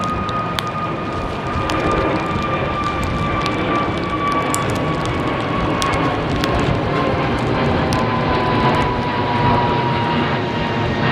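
Big airliner engines at London Heathrow thunder under a low cloud base, a loud continuous rumbling roar with faint whining tones drifting downward, no talk over it.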